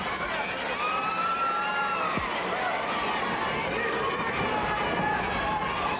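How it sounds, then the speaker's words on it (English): Wrestling arena crowd at an NWA Continental Wrestling show keeps up a steady, dense roar, with a rhythmic chant of a nickname aimed at a female wrestler rising from the noise. "You can hear the crowd picking up the chant Fleabag"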